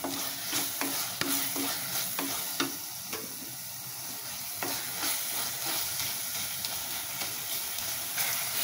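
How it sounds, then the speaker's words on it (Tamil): Tomatoes sauté in a hot pan for a Tamil chickpea curry, a continuous close sizzle with repeated scraping clicks of a spoon stirring and mashing, no voices over it. "இப்ப தக்காளி நல்லா வதங்கிடுச்சு பாருங்க."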